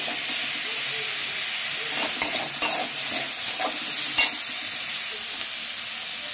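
Onion and carrot stir-fried in a pan for a vegetable momo filling: a continuous hissing sizzle with a few sharp scraping clicks from the stirring spoon near the middle.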